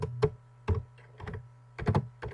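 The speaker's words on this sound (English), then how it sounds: "within this box we can start typing." Typing on a computer keyboard, a few quick clusters of soft close keystrokes separated by short pauses, quiet and alone.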